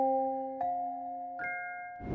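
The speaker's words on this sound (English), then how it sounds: "the preset is from Contact. It's the Celesta in the factory library." A Celesta preset from the Kontakt factory library plays a simple pattern of bright, bell-like sustained notes, with soft chimes entering one after another and ringing out together, followed by a breathy swell at the end.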